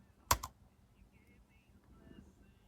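Keys are pressed on an OMOTON ultra-slim Bluetooth keyboard for iPad: two quick, close, crisp clicks near the start, then faint quieter sounds.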